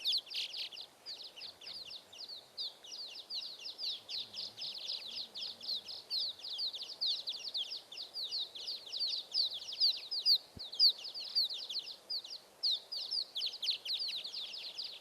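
Birds singing from perches on nest boxes, a dense, continuous chorus of rapid high chirps and trills repeating throughout, moderately close and steady with no voices.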